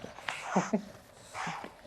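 An English bulldog gives short, soft whimpering whines in two brief bursts, close and fairly quiet.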